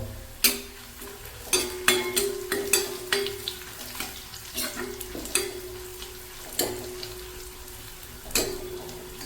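Onions and six dried red chillies sizzle and fry in a pan for Kerala mango pickle, with steady close crackling broken by repeated clinks of a spoon stirring against the metal.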